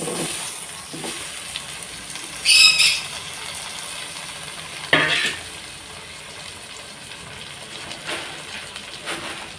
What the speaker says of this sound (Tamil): தக்காளி வதங்க நல்லா உப்பு சேர்த்துக்கணும்.